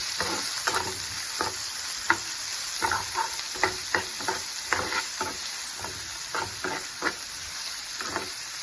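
Cut onions and curry leaves fry in a pan for an amaranth liver fry, under a constant sizzle with rhythmic, repeated spatula scrapes and taps close by, and no talking.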